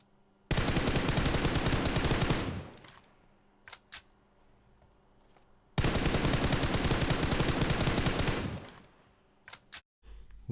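Two long bursts of automatic gunfire in the mobile battle-royale game PUBG Mobile, played on a 7th-generation iPad, each lasting a couple of seconds with a few short isolated shots between and after; no talking.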